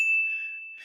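A single bright ding of a bell sound effect rings out clearly and sustains a clean tone before fading, alone with nothing else around it.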